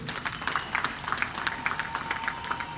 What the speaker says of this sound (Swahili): Ndugu wananchi, makofi kwa wabia wetu.